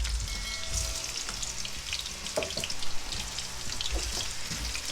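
Potatoes half-fried in oil for a beef caldereta give a steady, close sizzle with bubbling crackle throughout, a few sharper pops standing out near the middle, no voices over it.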